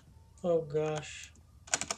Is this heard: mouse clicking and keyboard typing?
yes